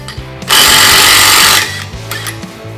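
A Snap-on impact driver rattles loudly and steadily for about a second as it hammers at roughly 100 foot-pounds in a head-to-head test, with quieter mechanical noise before and after.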